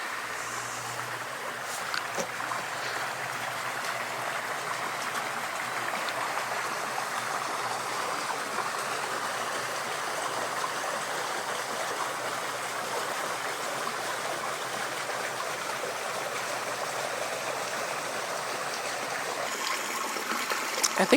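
Water running steadily from a roof sprinkler system in the snowy village of Shirakawago, a continuous even splashing hiss heard alone, unchanging for the full length.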